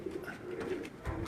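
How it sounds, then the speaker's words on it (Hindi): Sialkoti-breed pigeons coo on a rooftop, soft low rolling coos repeating close by over faint background noise. "ये बड़े मजबूत, बड़े अच्छे सियालकोटी नस्लों में ये कबूतर"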